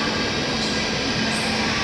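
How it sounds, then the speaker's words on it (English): A Chinese high-speed bullet train sits at a station platform, giving off a steady, loud broadband rumble and hum of rail machinery that continues without a break, with no talking. "just look at the front of this train, it's like a bullet."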